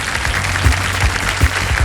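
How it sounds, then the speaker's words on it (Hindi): Studio audience clapping to welcome contestants on the Indian quiz show Kaun Banega Crorepati, steady brief applause with a low hum and a few thumps beneath. "जोरदार तालियों के साथ इनका स्वागत किया जाए।"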